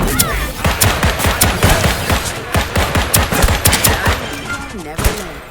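Akimbo pistols firing in Deceive Inc, rapid uneven bursts of sharp, loud shots in quick succession, with a voice speaking briefly between shots.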